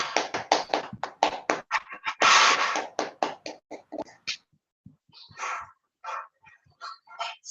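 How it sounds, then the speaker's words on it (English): A small club audience at a Toastmasters meeting claps to welcome a speaker: a quick run of close, crisp hand claps that thins out into scattered, irregular claps before stopping. "Please, with the thunderous round of applause to welcome for live distinguished Toastmaster Kubio Yaya."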